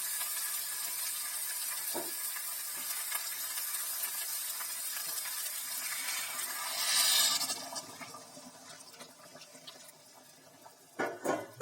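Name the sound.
water poured into cooking mutton curry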